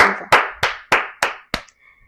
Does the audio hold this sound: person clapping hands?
yes